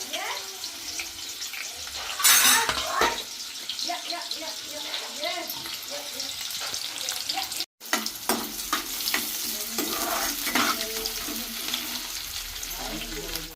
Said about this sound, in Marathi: तेल गरम झालेलं आहे मस्तपैकी त्याच्यामध्ये आता फोडणीसाठी आपण कांदो घालून घेत आहोत